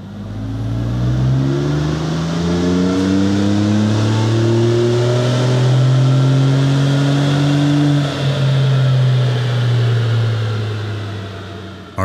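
A Ford Bronco fitted with a VR Tuned ECU tuning kit makes a full-power dyno run, its engine holding a loud, steady roar whose pitch climbs and sweeps upward throughout, with no talking.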